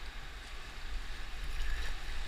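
A canoe moves through rapids on the Moira River, with a steady rush of turbulent water close by that grows slightly louder toward the end and no talking.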